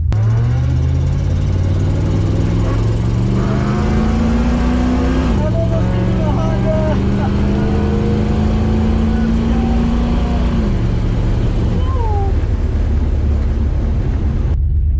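A 1968 Ford Mustang Fastback drag racing against a Honda, its engine roaring loud and close through rising revs with distinct gear shifts, then easing off past the finish line, the engine note continuous across the clip.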